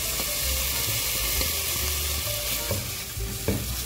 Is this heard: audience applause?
no